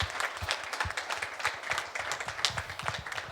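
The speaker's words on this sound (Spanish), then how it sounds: "Le brindamos un fuertísimo aplauso de agradecimiento a nuestro Dios" A congregation applauds during a Sunday church service, a lively mix of close individual claps over a fainter crowd of hands, uneven and rhythmic, moderately quiet.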